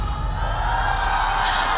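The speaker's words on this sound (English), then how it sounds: "Can we hear some noises from the crowd one more time?" A crowd cheers and whoops steadily at an Esports World Cup playoff quarterfinal on stage, a dense, loud roar of many voices that holds without a break.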